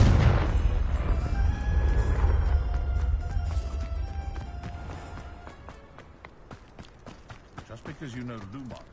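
Confringo blasting spell in Hogwarts Legacy, a loud booming burst at the start that rumbles and fades over several seconds, followed by quieter scattered impacts and movement sounds.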